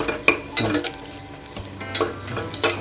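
Onions frying in a pan at close range, a continuous crackling sizzle broken by sharp clanks and scrapes of a utensil against the metal every half second or so.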